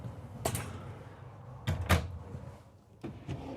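A drawer inside a Renegade Valencia 38RB RV slides open and shut, giving two or three short, close knocks and thuds with a quiet room between them and no one talking.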